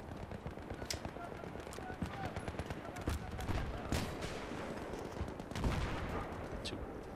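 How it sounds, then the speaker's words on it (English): Gunfire in the video game Battlefield 3, bursts of rapid shots and cracks, some near and some distant, mixed in with a busy battle din under quiet talk. "Someone's shooting at me though."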